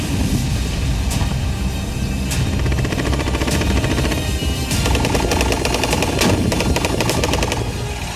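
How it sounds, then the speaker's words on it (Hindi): Gunfire and RPG launcher shots in a battle against ISIS in Mosul, Iraq: dense, continuous rapid bursts of automatic fire with sharper cracks throughout, loud and sustained. "जमीन पर मौजूद इराकी सैनिक गोलियां और RPG लॉन्चर से ऐसे गोले दाग रहे हैं जो घरों की दीवार से लेकर टैंक के बख्तर को भी बर्बाद कर दे"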